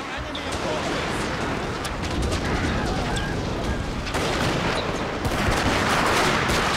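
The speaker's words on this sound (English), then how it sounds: "They're opening fire on my troops." Massed musket and rifle volleys crackle in dense, continuous bursts as line troops trade fire in a Shogun 2 Fall of the Samurai battle, loud and overlapping throughout.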